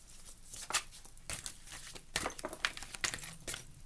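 Crisp riffling and flicking of stiff tarot cards being shuffled, several quick bursts with short pauses, close up and fairly quiet.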